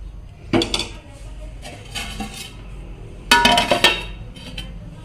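A metal lid clatters and clinks onto a pot of simmering chicken curry, with a few sharp metallic knocks in two or three bursts, close up, with no talking.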